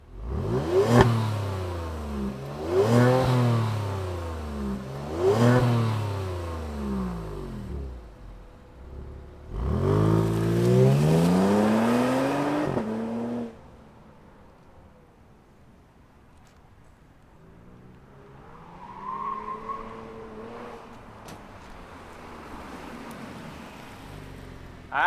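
A 2024 Genesis G70 3.3T sport sedan's engine barks awake and revs in several sharp, loud throttle blips, each rising and falling quickly, then settles into a quieter, steady idle.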